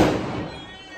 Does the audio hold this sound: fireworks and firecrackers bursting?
yes